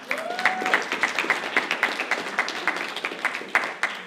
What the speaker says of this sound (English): So please, everybody give Stacy a round of applause.